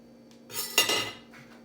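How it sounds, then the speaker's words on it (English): A lid goes back onto a peanut butter jar in a kitchen: a brief clatter of light handling noise with one sharper click, close and fairly quiet, with no talking. "Now, he's going to put the lid back on the peanut butter."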